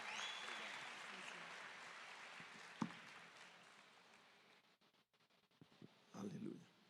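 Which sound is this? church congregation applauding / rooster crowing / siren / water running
church congregation applauding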